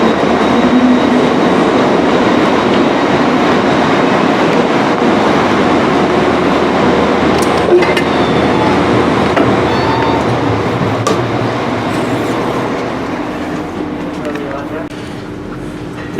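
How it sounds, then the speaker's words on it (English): An LNER Azuma train runs between Leeds and Wakefield Westgate, heard from inside as a loud, steady rumble with rail clatter that eases toward the end, with faint voices beneath. "let's go and board Azuma to Wakefield Westgate"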